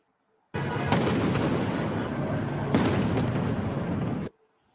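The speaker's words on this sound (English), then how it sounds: "Downtown LA, destruction, explosions heard, fireworks set off." Street protest in downtown Los Angeles: a loud, sustained roar of fireworks and explosions, with two sharp blasts standing out against a continuous rumbling barrage before it cuts off abruptly.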